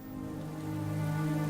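Rain falls across a floodplain in cheetah country, a steady broadband hiss that swells slightly in loudness, heard alone with a faint low hum beneath it.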